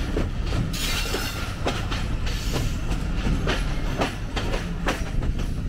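Rajshahi Commuter train pulling into platform 5 at Rajshahi railway station, a loud close rumble of rolling carriages with rhythmic clickety-clack wheel beats over rail joints and faint wheel squeal.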